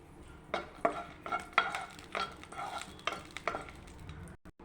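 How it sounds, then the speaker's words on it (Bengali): Three dried red chillies fry in a pan, crackling and sizzling while a utensil stirs and scrapes against the metal in uneven bursts, close and clear, with no voices. "লঙ্কাটা ভাজা ভাজা হয়ে গেছে"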